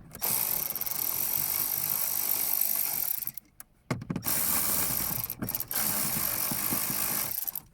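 Ratcheting clicks come from undoing a small cover screw while removing the heater fan of a Peugeot 306, repeating quickly and close up in long runs, with a brief pause partway through.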